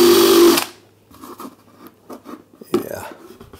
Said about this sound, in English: Well, I need to drill a hole in there first.